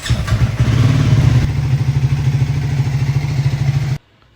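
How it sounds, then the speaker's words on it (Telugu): A motorcycle idles after a cold start in the early morning, a close, loud, steady rhythmic putter throughout that cuts off abruptly near the end. "బండిని కోల్డ్ స్టార్లో పెట్టేసి"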